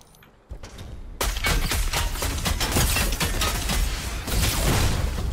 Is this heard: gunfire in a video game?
yes